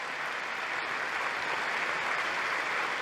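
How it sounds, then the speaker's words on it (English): Steady, dense applause from a large audience in the US Congress chamber, sustained and even throughout without any break. "why are they applauding?"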